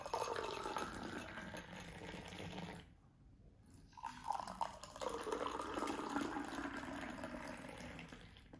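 Cluster bean juice is poured into glasses, giving a steady liquid splashing and filling sound, with a short pause before a second pour begins and carries on to the end.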